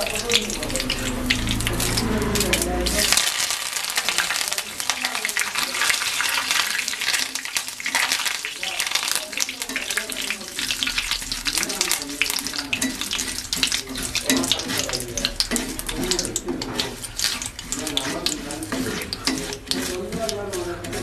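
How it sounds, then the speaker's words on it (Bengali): Curry leaves frying in hot oil for crispy chire bhaja, a steady loud sizzle and crackle running throughout, with light stirring sounds and no talking. "এবার কারি পাতাগুলো ভেজে নিচ্ছি"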